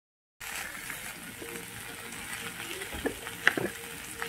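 A taro and hilsa fish mixture fries on a gas stove with a steady close sizzle, while a spatula scrapes and clinks against the pan now and then.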